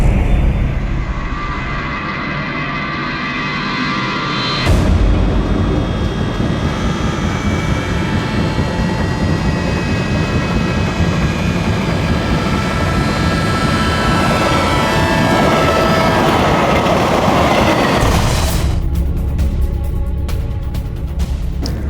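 A train passing along a railway track near a station makes a loud, continuous roar and rattle for about twenty seconds, swelling in at the start and cutting away sharply near the end, with no voices.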